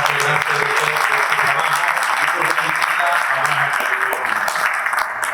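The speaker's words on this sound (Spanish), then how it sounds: "Se les un fuerte aplauso al director" An audience at an event on the national electric system's operational control applauds the director with steady, dense clapping, while voices and talk run underneath throughout.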